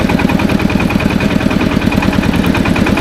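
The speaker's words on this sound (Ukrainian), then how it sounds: "трактор чуть не втік" A loud, steady tractor engine idles close by in a vegetable garden plot, a continuous low rhythmic chugging and rumble with no voices.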